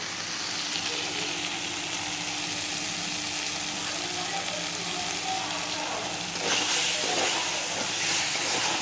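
Spice paste frying in a pan for cauliflower curry, giving a steady hiss and sizzle throughout that swells louder near the end, with no voices over it.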